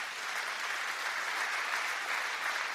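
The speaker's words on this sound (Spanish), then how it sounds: "Denle un aplauso al Señor." A church congregation applauds the Lord during a Spanish-language sermon, a steady even wash of clapping held at moderate level throughout, with no voice over it.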